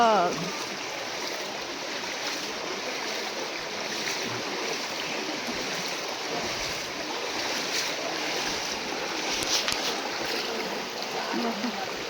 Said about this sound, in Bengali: জলের স্রোত দেখো বন্ধুরা, মেলা মেলা শেষ শেষ।